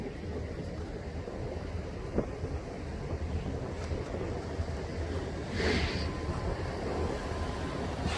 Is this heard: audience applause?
no